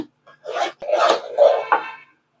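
Thick rice flour batter for appam is stirred in a heavy-bottomed pan, giving several close rasping scrapes in short bursts with brief gaps between them.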